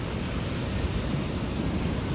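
Ocean waves rolling in to shore in the morning, a steady broad wash of surf noise at moderate distance, continuous and without voices.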